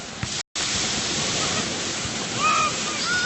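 Broadband surf from waves at an ordinary sea beach, a steady, fairly loud wash with a brief dropout early on and faint high whistles near the end.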